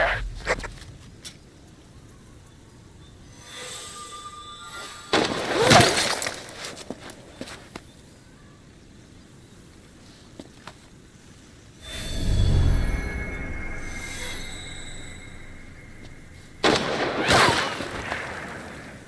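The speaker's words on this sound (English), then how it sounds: "A single gunshot pierces the silence, then another." Sniper rifle shots ring out in Metal Gear Solid V near an abandoned facility: sharp, loud reports separated by quiet stretches, each followed by a rolling echo and rumble, with faint ambient background between the shots.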